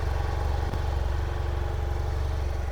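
A 2017 BMW F 800 GS Adventure motorcycle engine idles steadily with an even, rapid low thumping, moderately close and running alone without voices.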